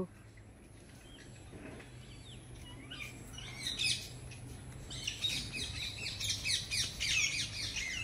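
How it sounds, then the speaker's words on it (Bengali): Parrots at a mini zoo in Howrah, India, screech and chirp in shrill, overlapping calls that grow busier partway through, over a low background hum. "কত প্যারট উড়ে বেড়াচ্ছে।"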